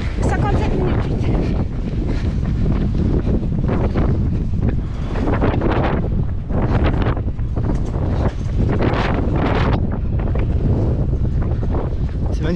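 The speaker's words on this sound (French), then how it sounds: "il y a tellement de vent, c'est ouf" Strong wind buffets the microphone throughout a long-distance relay trail race, a loud continuous roar with gusting surges, while runners talk intermittently underneath.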